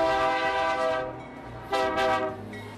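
Train at Imina Railway Station in Nigeria sounding a loud, sustained horn nearby, with a second horn blast after a short dip and rail rumble underneath.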